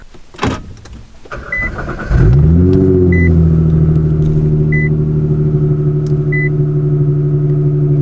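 A 1,000 HP Nissan GT-R fires up in a garage after a brief whir and thump, then settles into a loud, deep, steady idle rumble, with soft evenly spaced beeps over it.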